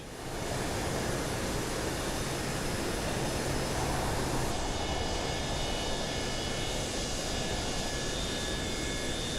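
A simulated Boeing 727-200F cargo jet taxis onto the runway, its engines giving a steady, loud, broadband roar with a faint high whine that stays unchanged throughout.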